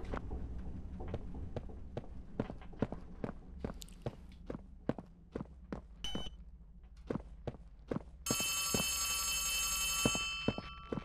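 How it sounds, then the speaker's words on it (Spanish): A telephone rings in the video game Poppy Playtime Chapter 3, a bright electronic trill that starts late and holds steady over a run of sharp footstep-like taps that fill the rest of the scene. "Teléfono."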